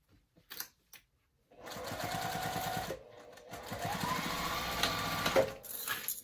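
A sewing machine back stitches fabric in two short close runs, a rapid mechanical whirring that pauses briefly between them after a few quiet handling sounds.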